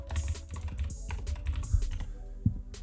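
Fingers typing on a computer keyboard, a quick, close run of clicky keystrokes in uneven bursts with short pauses, heard alone without talk.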